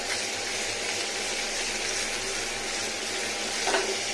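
Fish frying in mustard oil, a steady crackling sizzle that holds evenly from start to finish with no voices.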